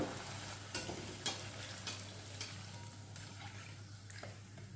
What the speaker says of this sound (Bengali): এইভাবে প্রত্যেকটা লুচি ভেজে নেব।